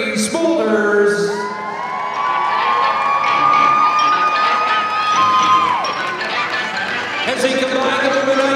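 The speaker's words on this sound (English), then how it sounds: "a nice round of applause for their fun and participation" A crowd cheers and applauds at a tractor competition, loud whoops and shouts rising over clapping, with excited voices and children's yells mixed throughout.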